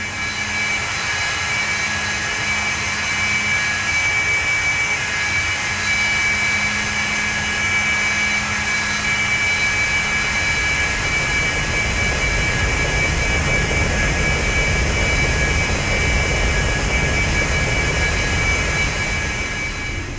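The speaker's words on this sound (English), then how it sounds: "Those F-mod sounds are nicely done, as you can hear as you pan around" Cessna Citation II business jet engines in the X-Plane 11 flight simulator, a steady loud turbine roar with a high whine and broadband rush that holds constant throughout, with no talk.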